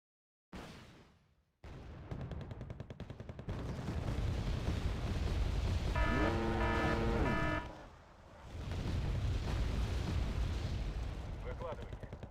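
Rocket artillery barrages in the war strategy game Wargame: Red Dragon rumble as dense, sustained booms and explosions, with a brief whistling salvo in the middle, over game noise and faint background chatter.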